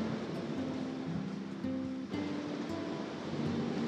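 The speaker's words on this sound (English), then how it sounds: "the sound coming from the sea, the waves hitting the shore." Sea waves wash onto a beach shore in a soft, continuous surge, distant and fairly faint, with a low hum running beneath and a few small clicks.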